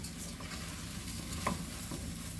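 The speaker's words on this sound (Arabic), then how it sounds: "لما تشوحي الرز كده بالخلطه" Rice sautéed in a pan with a spice mixture and fat gives a steady soft sizzle, with light scraping of a spoon stirring it near the end.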